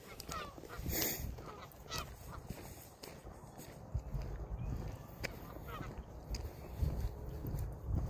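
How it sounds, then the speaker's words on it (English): Geese honk at a fishing lake, with many overlapping calls at varying distances over outdoor ambience and some rustling, continuing for several seconds. "Geese galore everywhere."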